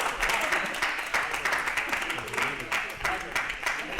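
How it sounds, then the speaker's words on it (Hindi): A live audience at a stand-up comedy show claps and applauds steadily and loudly throughout, with voices mixed into the ovation. "एक बार जोरदार तालियां कृष्णा के लिए"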